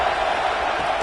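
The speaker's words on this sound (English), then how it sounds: "This crowd trying to make life miserable for this offense." Steady roar of a football stadium crowd during a game, a dense wash of massed voices with no clear breaks, loud and continuous for the whole moment.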